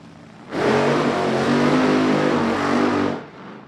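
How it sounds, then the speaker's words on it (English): Supercharged nitro-burning small block Chevy in an old-school slingshot dragster, roaring loud and close in one sustained blast of about two and a half seconds, then cutting off sharply. "This old school Slingshot with the supercharged nitro burning small block Chevy for power."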